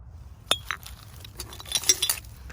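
Old machine-made glass bottles, including a large sauce bottle, clink against one another as they are handled, giving a few sharp, light knocks spaced out over soft background noise.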